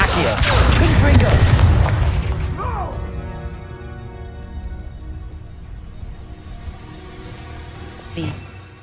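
Confringo fire spell blasting in the Hogwarts Legacy video game, a loud booming impact with crackling debris that decays over several seconds, followed by a faint second burst near the end.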